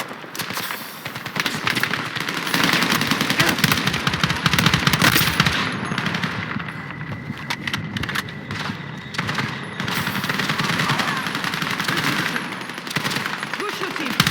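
Sustained automatic gunfire from Battlefield gameplay, with dense machine-gun bursts and scattered shots running loud and continuous throughout, with a heavier stretch early on.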